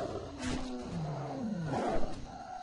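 A tiger in World of Warcraft gives low, rumbling roars and growls in overlapping bursts, close and steady against the game's background noise.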